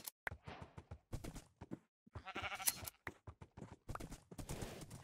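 Several short bleats from sheep in a video game, close and moderately loud, broken up by brief gaps and some game noise.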